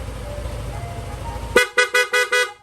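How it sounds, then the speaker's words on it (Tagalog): A loud PIAA horn on a Yamaha Aerox V2 scooter honks in four short, evenly spaced blasts after a stretch of low engine idle, close and sharp, in a shop. "Loud horn."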